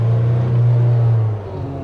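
A Mahindra car engine revs steadily, a loud low hum holding its pitch for over a second before easing off.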